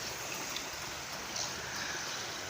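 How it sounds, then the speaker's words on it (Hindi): Fast water rushes steadily through a large, dangerous canal in Pakistan, a continuous broad hiss of flow heard from nearby with no voices over it. "शोर नज़र आ रहा होगा पानी का।"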